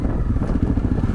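A motorcycle being ridden at speed gives a close, rough engine drone mixed with wind buffeting, steady for a brief moment without talk.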